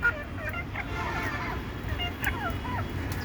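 Deshi chickens clucking inside a confined coop, several short calls and squawks at moderate distance over a steady low background hum.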